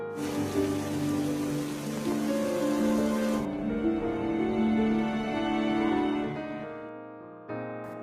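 Steady rain falls on a castaway island, a dense hiss mixed with a tonal musical score, cutting off partway through while the music carries on.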